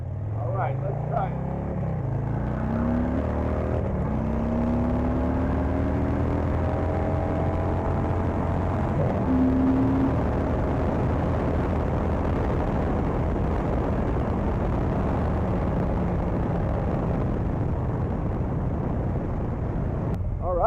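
Motorcycle ridden at high speed, above 90, heard from inside an HJC RPHA 91 modular helmet: a loud, steady roar of wind and engine drone that stays constant throughout, with a rising engine note partway through.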